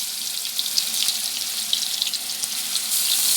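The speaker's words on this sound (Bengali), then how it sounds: "এবার আমাদের তেল গরম হয়ে গেছে, এবার পেঁয়াজ বাটার যে পেস্টটা ছিল সেটা আমি দিয়ে দেবো" Onion, ginger and garlic paste hisses in hot oil for prawn malaikari, a steady, close frying sizzle with small crackles and no voices.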